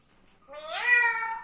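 A parrot mimics a cat's meow with one close, clear drawn-out call that rises then tails off, alone against a near-silent room.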